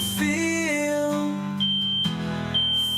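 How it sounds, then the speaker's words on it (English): A high-pitched fire alarm in an old building drones steadily with a shifting, beeping electronic tone, loud and close, with a brief voice heard under it. "That is the fire alarm."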